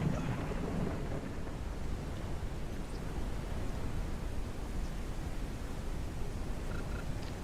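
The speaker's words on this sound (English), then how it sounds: "A storm is coming." A video game thunderstorm with a steady hiss of heavy rain and a low rumbling roll of thunder underneath, continuous and fairly loud throughout.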